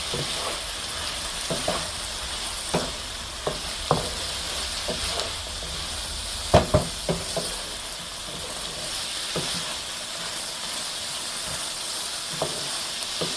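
Sliced yellow and red capsicum frying in a pan for spicy fried rice makes a steady, hissing sizzle, punctuated by scattered clicks and scrapes of a stirring spatula, close and unbroken, no speech.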